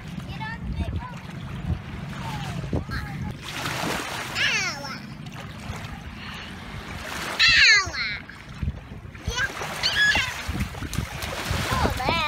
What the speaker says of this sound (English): You splashed sister in the face.